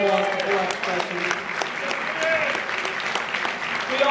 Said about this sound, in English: let's give a big round of applause to Floral Expressions